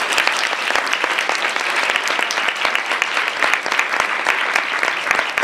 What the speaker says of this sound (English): if we could give him another round of applause